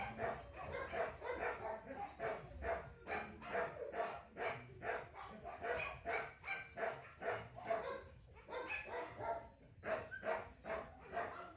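Shelter dogs in kennels bark continuously, a steady run of overlapping barks with a few yips and whimpers mixed in, several dogs close by and echoing.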